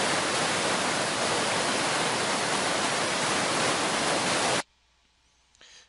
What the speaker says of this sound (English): It's just the waterfall coming down itself.